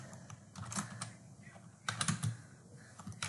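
Keys clatter on a computer keyboard during an email-writing session, a close run of uneven clicks and taps with short bursts and brief pauses, no voices over it.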